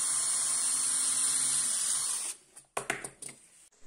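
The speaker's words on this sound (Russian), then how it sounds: "И теперь сверлышком делаю отверстие." A small drill bit bores a hole through a workpiece backed by a pressing pad, giving a steady, close, high-pitched whir for about two seconds before stopping, followed by a few faint handling clicks.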